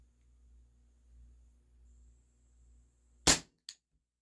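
A WE Tech Bulldog gas blowback airsoft pistol fires 0.20 gram BBs: one sharp, loud shot followed by a smaller second snap, set against a low, steady background hum.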